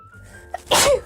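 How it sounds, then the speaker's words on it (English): A single sharp sneeze bursts out after a quick inhaled breath, close and loud. "I'm gonna sneeze."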